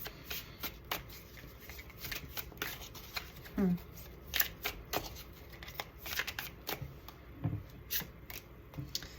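Tarot cards being shuffled and drawn during a reading, a steady papery riffling and flicking that runs throughout, close up, while a person talks over it.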